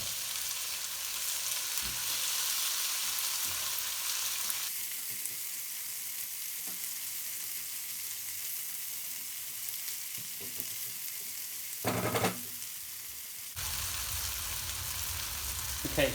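Chopped tomato and softened onions fry in a pan for a tandoori chicken curry, a steady close sizzle with occasional stirring scrapes and a brief louder burst midway.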